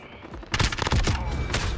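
Call of Duty Modern Warfare gunfire: a quiet opening followed by loud, rapid bursts of automatic shots crackling in quick succession, close and dense.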